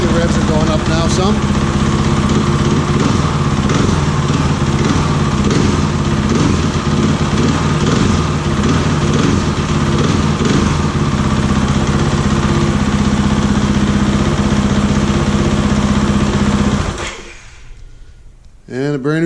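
A 2013 KTM 500 motorcycle engine runs loud and close for about seventeen seconds, its revs climbing and wavering in a busy mechanical roar before cutting off abruptly into near silence.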